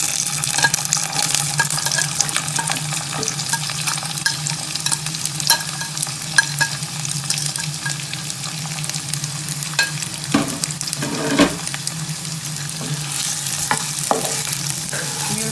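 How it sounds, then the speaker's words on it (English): Chopped onion frying in a pan with garlic, a steady close sizzle running throughout with intermittent scraping of a utensil stirring it, no talk. "We'll fry onion till it changes color. We'll keep on stirring in between."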